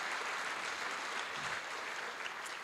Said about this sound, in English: That needs applause.